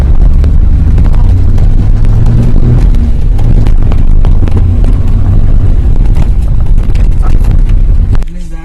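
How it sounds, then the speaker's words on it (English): A Maruti Suzuki 800 engine revs while moving off in first gear, a loud continuous low roar mixed with wind buffeting, rising and falling slightly before cutting off near the end. "Let's rev the motor."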